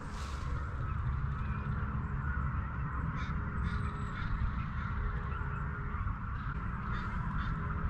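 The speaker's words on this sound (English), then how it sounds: "I hear a bunch of birds over here." Several birds call from a distance, harsh caws and squawks scattered over a constant outdoor rumble.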